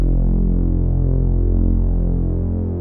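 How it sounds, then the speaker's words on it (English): A loud, sustained synthesized Reese bass drone made in the Vital synth hums with a thick, slowly throbbing tone that holds steady throughout. "These could also be known as Reese basses as well."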